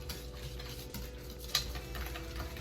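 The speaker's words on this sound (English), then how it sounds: "And then we're gonna add 3/4 cup of water and whisk that all together" Whisk stirring sugar and water together in a bowl, a steady soft scraping and swishing with light clinks against the side, close and alone with no talk.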